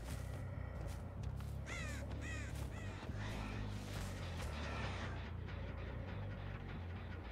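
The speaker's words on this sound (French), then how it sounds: "J'ai vu un corbeau s'envoler au loin là-bas là." Crow in the Dead by Daylight video game, several loud harsh caws in quick succession near the start, then a flutter as it takes off, over a steady low ambient rumble.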